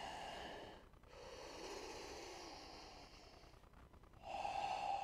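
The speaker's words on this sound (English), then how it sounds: "Breathing in deeply." Slow, deep breaths during a yoga session, with a long inhale-like stretch of soft airy noise followed by a pause and another close, breathy exhale, quiet and unaccompanied by speech.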